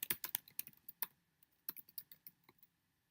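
Clicky computer keyboard typing while a name is entered for a new portfolio: irregular bursts of keystrokes, close and fairly soft, with short pauses between runs and no talking.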